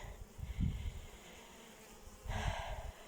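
Bees fly and work around a hive outdoors with a low, faint buzzing that swells twice as insects pass close.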